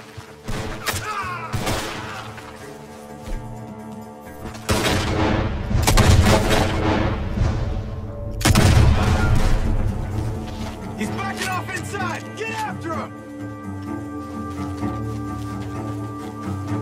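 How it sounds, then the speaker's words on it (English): Bursts of gunfire and heavy booms from a shootout at a barn in Red Dead Redemption 2, several sharp volleys over layered background sound, with some scattered voices in between. "The gunshots are coming from that barn!"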